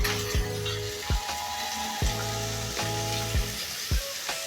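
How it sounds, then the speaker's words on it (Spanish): Vegetables sizzle on a grill with a steady crackling hiss, broken by several sharp clanks of a utensil against the pan at regular intervals, with no talking. "Y nuestros vegetales los ponemos a grillar, a sudar."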